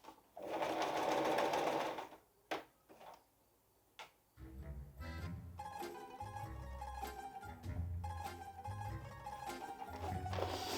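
A sewing machine runs in a steady rapid whir, pauses with a few clicks, then starts again in a lower, chugging rhythm as it stitches in reverse and then forward, close and clear with no talk.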